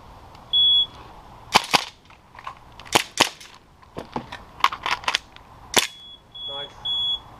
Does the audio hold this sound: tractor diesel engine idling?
no